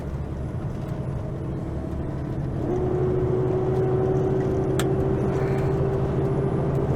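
A car rolls slowly along a gravel road in farm country, giving a steady close rumble of tyres and engine with a faint whine rising partway through.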